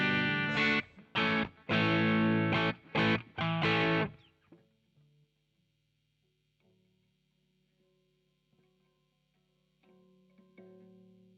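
Electric guitar through a simulated Marshall JCM 800 amp in Studio One: four seconds of loud, distorted chord strums in short bursts, then a long ringing decay and faint low hum.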